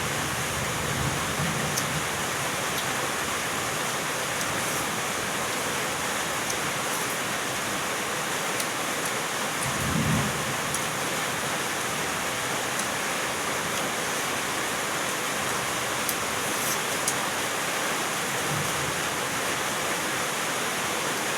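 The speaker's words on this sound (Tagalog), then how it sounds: "Lalo't nababagay pa at umuulan dito sa amin ngayon." Steady rain falls outside in a dense, even hiss that fills the whole stretch without a break, with a few faint low thumps underneath and no talking.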